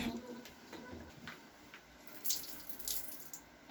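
Water runs steadily and softly in a shower while a bottle watering system with tubing is tested for leaks, a continuous faint splashing flow.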